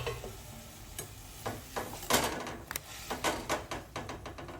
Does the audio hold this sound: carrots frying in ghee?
yes